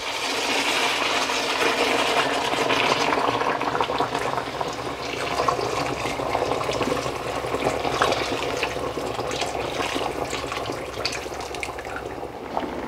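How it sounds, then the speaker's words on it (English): Boiled water pours steadily from a full kettle into a cooking pot for haleem, a continuous rushing splash lasting the whole stretch at close range with no talk. "I'm going to add a full kettle of boiled water into this."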